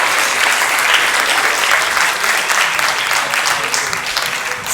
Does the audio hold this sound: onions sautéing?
no